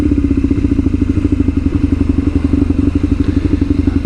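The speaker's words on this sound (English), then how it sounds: "I need to bump my idle speed up a little bit." A Kawasaki KZ750 scrambler motorcycle idles close by with a steady, loud, lumpy low throb and rapid even firing pulses that run unbroken throughout.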